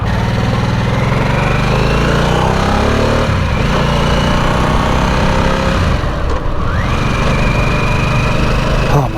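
Harley-Davidson Nightster with the water-cooled 975 engine under way, loud steady engine drone with wind rush, the pitch rising and dropping through gear changes as the bike rides along on a hot day.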